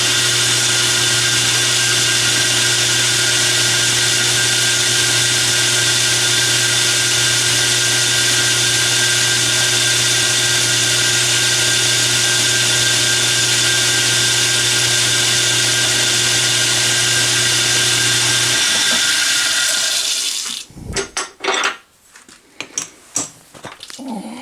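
An end mill cuts metal with a loud, steady high-pitched machining whine and drone for about twenty seconds, then stops, leaving a few scattered clanks and handling knocks.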